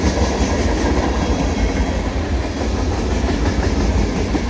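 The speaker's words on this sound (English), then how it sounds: "Second train I got at Pointe Claire today." CN eastbound freight train rolling past Pointe Claire station in winter, a loud continuous rumble with rhythmic wheel clatter close by, no voices.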